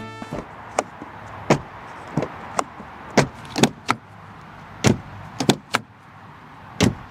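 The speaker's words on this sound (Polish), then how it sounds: "odgłos otwieranych i zamykanych drzwi" A series of sharp, solid clunks, around a dozen, spaced irregularly, as the doors of a Dacia Bigster are opened and shut close by, with quiet gaps between.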